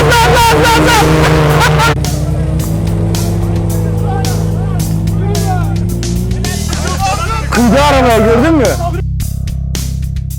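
An off-road car's engine revs hard and climbs in pitch as the driver floors it on a rough course, loud and close, with excited shouting and crowd chatter over it.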